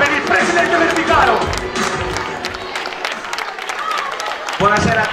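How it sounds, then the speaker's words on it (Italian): Crowd applause and some cheering for the tournament president at the opening evening of the Riviera dei Cedri Cup tennis event in Scalea, loud clapping that fades into scattered claps, with voices mixed in. "Un forte applauso per il presidente Verbicaro."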